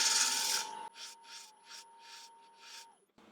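A smaller 3/8-inch woodturning tool cutting applewood on a spinning lathe, a loud scraping rush that stops abruptly, then a series of softer rhythmic rasping strokes over a steady motor hum.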